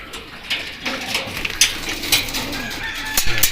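A blue bar pigeon among stock birds coos softly, close up, in short repeated murmurs mixed with a few flutters and small knocks.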